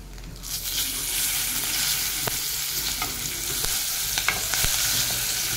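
Turmeric and curry leaves hit hot oil in a pan with a steady, dense sizzle and crackle, scattered sharp pops and stirring clinks, close and continuous with no talk.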